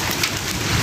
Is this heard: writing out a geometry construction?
no